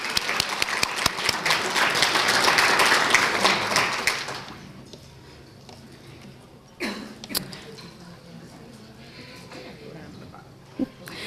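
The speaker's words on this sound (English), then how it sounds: "Let's give them a round of applause." Audience applause at a City of Douglasville 2018 employee service awards ceremony, a loud burst of clapping in the room for about four seconds that fades out, followed by quiet room tone with a few scattered taps and a cough.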